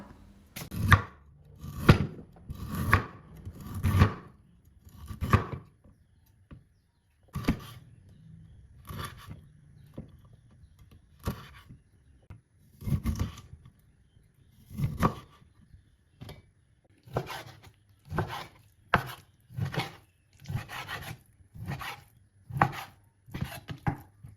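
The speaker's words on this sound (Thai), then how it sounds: "เฮาล้างให้สะอาดหมดแล้วเฮาก็ เอามาหั่นเจ้า" Spring onions, coriander and herbs for Tom Kha Kai are chopped on a cutting board, giving close, loud, irregular knife thuds in quick bursts separated by short pauses, with no talking.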